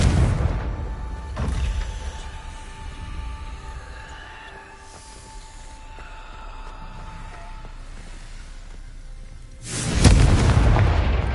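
Confringo fire spell explosions from the Hogwarts Legacy video game: two loud, deep booming blasts, one early and a stronger one near the end, with a rumbling game soundscape between them.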